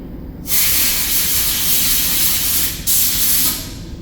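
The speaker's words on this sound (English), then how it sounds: "When I blow that out, I just want to give it a light dusting everywhere" Compressed air blasts out of the nozzle of a GX141 spray gun in two loud, close hissing bursts, the first long and the second shorter after a brief break.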